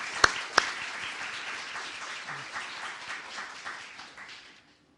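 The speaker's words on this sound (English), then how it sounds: "Let's give her a round of applause." A conference audience at a panel event on cultural stewardship claps in a steady, moderately distant round of applause that runs for several seconds, opened by a couple of sharp nearby claps and then fading out.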